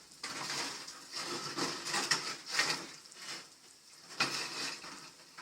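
Menemen sizzling in a pan with a steady crackling hiss, rising and falling in bursts, close by and moderately loud, no talking.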